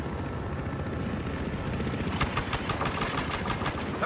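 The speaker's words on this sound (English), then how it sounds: "Transport chopper!" A transport helicopter in Battlefield Hardline keeps up a steady, loud rotor and engine drone, with rhythmic thumping blade pulses building in the second half.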